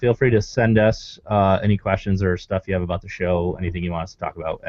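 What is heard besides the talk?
No distinct noise like a dog, phone or traffic.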